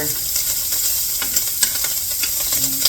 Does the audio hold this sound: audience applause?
no